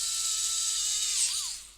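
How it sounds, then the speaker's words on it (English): Small electric screwdriver whirring steadily as it drives a screw into a ROKR wooden model kit, a high continuous motor whine close up that dips in pitch briefly before winding down. "Now let's put the screw in."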